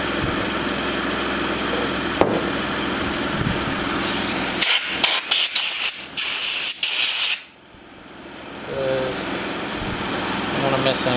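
Compressed air blasts through a Honda GC190 carburetor in several sharp, loud bursts of hissing spray, heard over a steady engine-like background hum with a voice talking at times.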